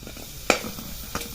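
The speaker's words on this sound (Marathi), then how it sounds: "आणि ह्या तुपामध्ये लगेच गुळ घालून घ्यायचा आहे" Jaggery drops into ghee in a kadhai, a low, close sizzle marked by two sharp scraping clinks about half a second apart.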